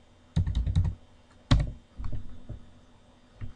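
Computer keyboard keys tapped in bursts while entering numbers into an Excel spreadsheet: a quick run of clicks, a pause, then another cluster and a few scattered keystrokes, close and moderately loud.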